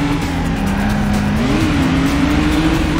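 A race car in the PS2 stunt-driving game Stuntman roars along at close range with a sustained engine drone that rises in pitch, and a tire squeal cuts through as the car slides, with no talk.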